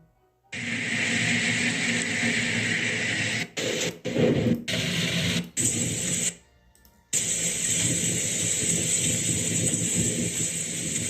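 A weak thunderstorm with rain and wind gusts: a dense, loud hiss of heavy rain and wind that cuts out abruptly several times, then returns at full strength.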